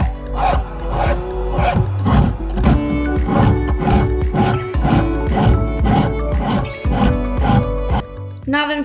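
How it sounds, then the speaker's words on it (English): A needle file works a pair of metal jewellery pliers in quick repeated strokes, a rhythmic rasping scrape close to the microphone that continues steadily for several seconds. "Now that I'm finished with the file"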